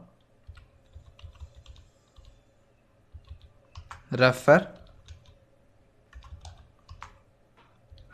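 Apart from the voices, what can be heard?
typing on a computer keyboard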